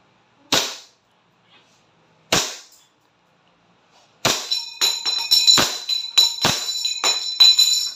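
A WE Glock 18C airsoft pistol fires semi-automatic: two single sharp cracks spaced apart, then a quick string of closely spaced loud shots with bright metallic ringing.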